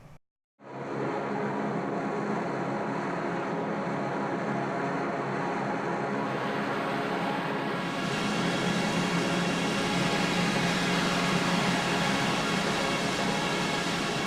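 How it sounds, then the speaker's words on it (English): A suction vortex sound effect: a continuous, broad airy rush that starts after a short silence, holds steady and grows slightly fuller and louder partway through, with no voices. "And then there's the suction vortex."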